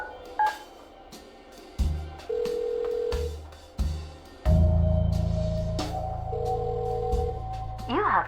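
A telephone call being dialed in the Kathy Rain 2 video game: short key tones, a sustained dial tone, and then a series of separate tonal beeps and clunky handset sounds, close and clear, with no voices.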